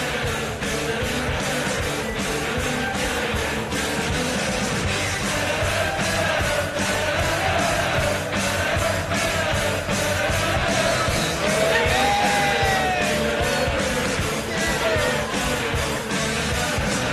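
Near-capacity crowd at Butlins Minehead during a UK Open darts match, a steady dense roar of cheering, whooping and chatter that stays loud and unbroken throughout.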